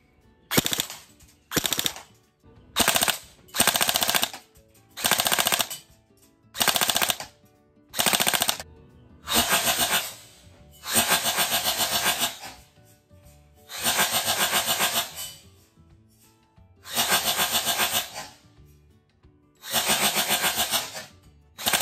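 Black MK18 MOD1 electric airsoft rifle with bolt blowback fires repeated full-auto bursts, a dozen or so rattling strings of varying length separated by short pauses, loud and close with no talking.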